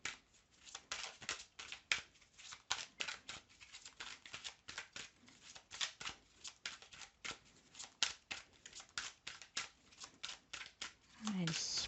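Tarot cards are handled, shuffled and drawn in a rapid run of crisp snaps and flicks close by. A voice talks quietly underneath them.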